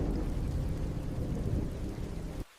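Heavy thunderstorm with steady rain, a dense roaring rumble of downpour and thunder filling the clip loudly before cutting off abruptly near the end, with no voices.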